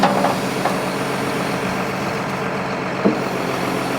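A semi truck stuck in a four-foot snow drift runs its engine with a steady, loud diesel drone, broken by a few brief hisses and clunks and no voices.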